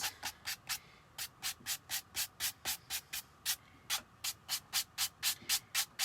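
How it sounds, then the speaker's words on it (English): Sanding block rubbing over chalk-painted polka dots on a St. Patrick's Day DIY project, a steady run of about twenty quick, even scratchy strokes, close and crisp, with no talking. "just from using a little bit of the sanding block"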